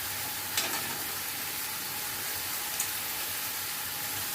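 Spiced mixture frying hard in a pan over a high gas flame, a dense continuous sizzle with a couple of faint stirring scrapes, close and alone.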